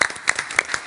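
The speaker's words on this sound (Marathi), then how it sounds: "विदर्भ योद्ध्यांसाठी जोरदार टाळ्या" A studio audience claps in a brief burst, several sharp hand claps in quick succession, close and moderately loud, at an event for a water conservation competition.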